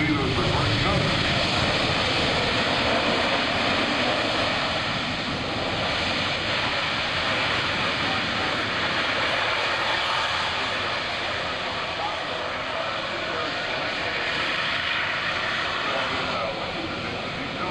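A military transport plane lands at an air show, its propellers roaring in reverse thrust during braking, a loud broad wash of engine noise lasting throughout, with an announcer talking over it.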